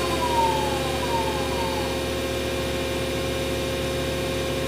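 A Mazak Integrex CNC lathe machining bar stock gives a loud, steady mechanical hum with layered tonal whine and a descending pitch sweep near the start, continuous and close with no talking.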